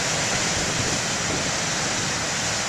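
Ocean surf rolls in at the main lighthouse beach at BTL as a steady, dense roar of breaking waves, close and continuous for the whole stretch with no pauses.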